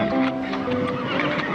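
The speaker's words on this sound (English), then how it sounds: "You listen to horse." A horse gives a loud, close whinny with a wavering, drawn-out pitch, while hooves shift and stamp beneath it.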